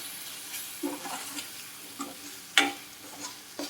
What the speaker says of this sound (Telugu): ఇది కూడా మొత్తం అంతా బాగా కలిపేసుకోవడం